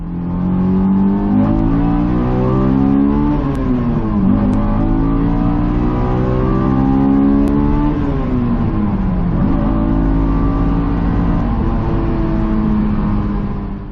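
A Honda S2000 AP1 engine revs loudly and steadily, its pitch rising and falling through a 2nd-to-3rd gear shift with rev matching. It runs alone and close with no talk.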